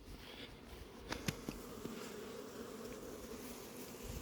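Bees at an apiary in Crosne, a steady faint insect buzz with a few brief louder passes close by, over a low outdoor background; no voices.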